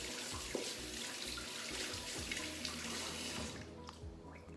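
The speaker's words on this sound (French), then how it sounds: "Donc on va passer au lavage des légumes." Vegetables for beef bourguignon are washed under a running kitchen tap, a steady close rush of water into the sink with small splashes, fading slightly at the end, no talk.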